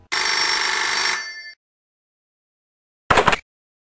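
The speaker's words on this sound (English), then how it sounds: "It's the bat phone." The bat phone rings in the Lego Batman video game: one long electronic ring of about a second and a half, then silence, then a short second burst, loud and alone with no talk.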